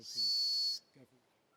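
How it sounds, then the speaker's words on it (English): A single sharp, high blast from a life jacket whistle held for just over half a second, followed by a brief pause and a short faint tone. "You can attract attention using the whistle."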